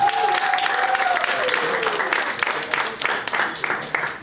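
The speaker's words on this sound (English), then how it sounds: "Can we give them another round of applause?" An audience at a community literacy town hall gives a round of applause, continuous crowd clapping that tapers off toward the end. A voice sounds briefly over the clapping.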